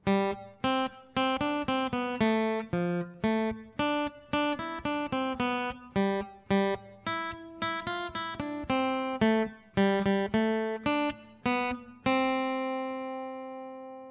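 Plucked guitar notes pick out a simple, lilting melody in a steady triple rhythm, clear and close, ending on a long ringing note.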